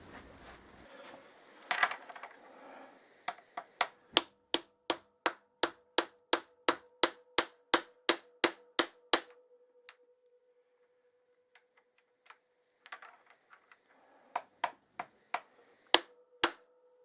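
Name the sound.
hammer tapping a socket onto a spacer, Triumph TR6 motorcycle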